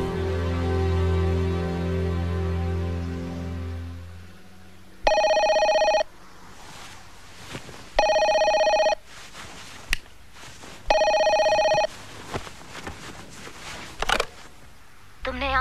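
Three loud bursts of a telephone bell ring out in a dramatic scene from a Hindi romantic film, each lasting about a second with short gaps between them, following a stretch of music and low talk.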